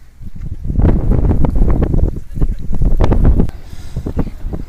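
Strong gusts of wind buffeting the microphone high on Mount Victoria above Wellington, loud rumbling bursts that rise and fall in waves, easing near the end.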